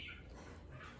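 An African grey parrot vocalizes at close range, a steady run of chirpy, squawking calls with bright high notes near the start and end.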